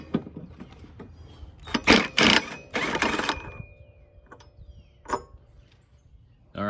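Quick, clicking bursts from a ratchet with a 15/16 socket on the flywheel nut of a Snapper SPV mower with a Briggs & Stratton engine, a few close, uneven clusters of clacks and metallic taps with pauses between them.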